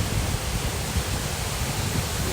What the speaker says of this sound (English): I'm starting to get a bit of spray off the waterfalls